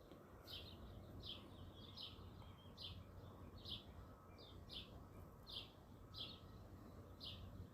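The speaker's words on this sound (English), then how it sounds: "Please ignore that bird that's singing in the background." A songbird sings outdoors at a patio reroofing job on a fine day, repeating short bright phrases about every seven-tenths of a second, faint and distant over steady background noise.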